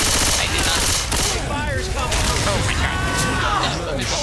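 Automatic gunfire aimed at a tank in a video game, rattling bursts mixed with crashes and impacts, with excited voices shouting over the chaotic firefight.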